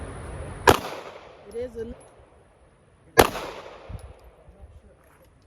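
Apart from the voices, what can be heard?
Glock pistol gunshots at target practice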